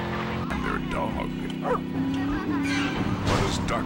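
A dog barks and yips in the video game GTA Vice City Stories, several short barks mixed with game sounds and under talking voices.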